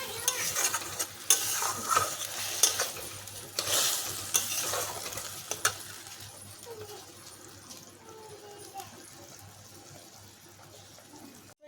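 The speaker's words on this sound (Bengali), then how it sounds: "এটাকে আমি এখন হালকা জাল করে নেব।" Spices fry lightly in hot oil, crackling and sizzling while being stirred, loudest and busiest early on and then settling into a softer, fading sizzle.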